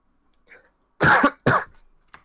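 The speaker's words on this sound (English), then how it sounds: "Coughed." Two sharp, close coughs in quick succession, preceded by a faint throat sound and followed by a brief click, loud against near silence.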